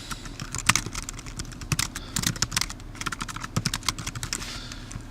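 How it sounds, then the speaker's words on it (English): Rapid, irregular clicking of keys on a computer keyboard, close and clear, in steady bursts with no talking. "I can begin typing my text"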